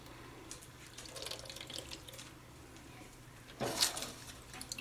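Pork roast stock from a whole roast pork shoulder pours through a fine mesh strainer, a soft steady liquid trickle building to a brief louder splash near the end, with no talk.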